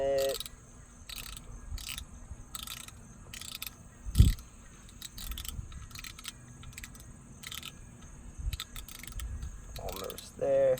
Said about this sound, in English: you want to take your drag and loosen it all the way